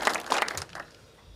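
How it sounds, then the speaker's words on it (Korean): A short burst of audience applause at a talk concert, crowd clapping for about half a second before quickly fading out. "큰 박수 힘을 실어주시기 바랍니다"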